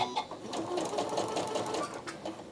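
A Janome Skyline S9 electronic sewing machine stitches continuously at moderate speed, with a quiet, fairly close, even mechanical whir and rapid needle ticking.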